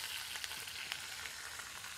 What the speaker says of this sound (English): Sizzling, nice bit of colour.